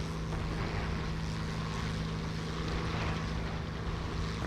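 A steady, droning propeller-plane engine roars continuously in War Thunder, a loud unbroken hum with a low constant tone and no talk over it.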